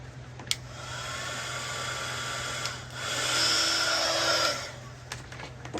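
A hair dryer blows at close range over a handmade artist trading card, a steady whooshing hiss that shifts in pitch partway through, with clicks at the start and end as it is switched on and off.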